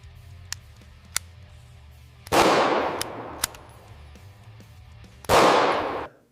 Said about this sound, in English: The first cycle of the pistol.